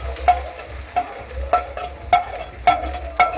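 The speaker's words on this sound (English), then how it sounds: "So we add in the pimento, hot pepper and onions now." Pimento, hot pepper and onions fry for a Trinidadian curry crab, crackling and sizzling loudly up close while a spoon stirs them in six regular strokes, each stroke bringing a sharp scrape and a burst of spitting oil.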